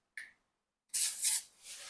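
Oil sprayed in a short hissing burst onto a hot charcoal set inside a pot of Lahore-style bhindi masala for smoking, the spray loud and close after a brief click.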